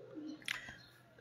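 A single soft pigeon coo close by, brief and low, followed by a faint flutter-like rustle in a quiet outdoor setting.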